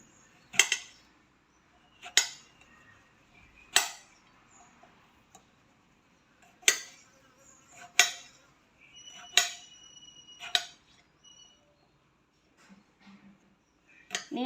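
A knife cuts crab into pieces for a Jaffna-style crab curry, making sharp, separate chopping knocks and clinks at an uneven pace, close by with little background noise.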